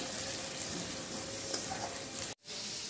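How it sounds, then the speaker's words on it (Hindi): Green chili spice paste fries in hot oil, a steady close sizzle with a soft crackle that runs unbroken before cutting out abruptly near the end. "मैंने जो पेस्ट बनाया हुआ है वो मैंने तेल में डाल दिया है। पेस्ट को थोड़ी सी मैं फ्राई कर लूँगी।"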